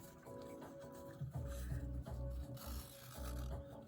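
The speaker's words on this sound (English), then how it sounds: "Now we'll scrape all the edges off, making sure it's clean" Paint being scraped off the edges of a fluid-art canvas, a series of rough rasping strokes, close and fairly quiet.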